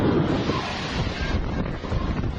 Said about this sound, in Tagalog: Daluyong na tila nilamon ang mga bahay sa tabing dagat.